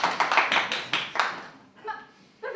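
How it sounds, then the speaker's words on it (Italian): Hands clap in applause at a theatre prize event in Rome, a quick, uneven burst of close claps that thins out and trails off, with a brief voice-like sound near the end. "merita il mio applauso, unito a quello della nazione tutta"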